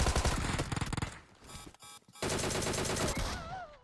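Gunfire in the video game PUBG: rapid automatic bursts with sharp repeated shots, a short lull, then another sustained volley with ringing tones over loud game effects.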